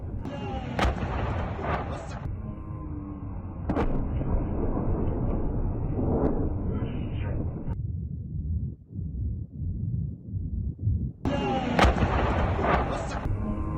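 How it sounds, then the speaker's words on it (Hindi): HIMARS rocket strikes hit a Russian army facility in the Kherson area in war news footage, with repeated heavy booms and rumbling blasts across several cut shots, some loud and close, others more muffled. "यूक्रेनी सेना क्या हाइमार्स से भीषण हमला, ये देखिए जरा"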